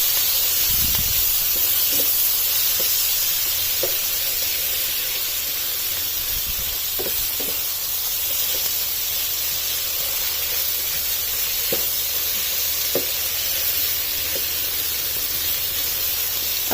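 Chicken goes into a hot pan of sizzling masala for a jalfrezi, giving a steady, loud hiss of frying throughout, broken by a few faint clinks and knocks of utensils against the pan.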